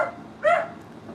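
A dog gives a single short bark or yip partway through, fairly close and alone with no talk.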